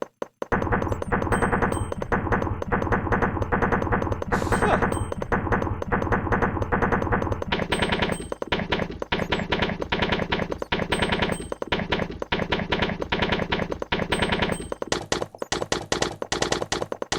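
A Minecraft-style beat built in-game, with a punchy snare hitting in a steady rhythm over dense layered percussion and bass, loud and continuous with a brighter, fuller section joining partway through.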